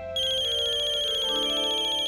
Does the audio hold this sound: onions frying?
no